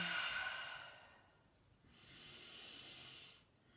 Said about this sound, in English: Breathe deep. Just 3 rounds of breath.